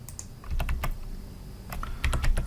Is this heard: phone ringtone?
no